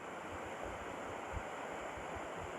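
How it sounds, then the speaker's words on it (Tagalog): Strong river current rushing beneath a concrete bridge with three large culvert openings, a steady broadband roar of flowing water with low rumbling surges, no voices. "Makikita nyo rin na napakalakas ng daloy ng tubig."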